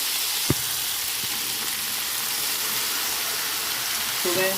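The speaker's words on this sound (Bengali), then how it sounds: "এবার একটু হালকা করে সোয়াবিনটা আলুটা একটু ভেজে নেবো আর একটু" Soybean chunks and potatoes fry gently in a pan, giving a steady, soft broadband sizzle with a faint knock near the start; the frying stays even and fairly quiet throughout, with no voices.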